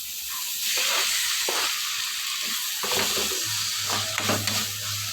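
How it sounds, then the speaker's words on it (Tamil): Chopped tomatoes sizzle and hiss in a pan over ginger garlic paste, with stirring scrapes throughout; a steady close frying sound, no talk. "நம்ம கட் பண்ணி வச்சுருக்க தக்காளி பழம் இது கூட ஆட் பண்ணிடலாம்"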